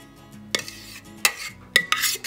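Pudding is scraped out into a bowl, with a few sharp utensil clinks and knocks against the dish, spaced irregularly over a quiet background.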